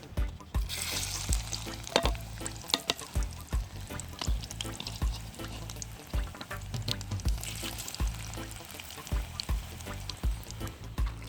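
Ripe plantain fries in a pan at an outdoor cook-up, a crackling sizzle overlaid with rapid rhythmic scraping and knocking as the pieces are stirred, steady and close for about eleven seconds.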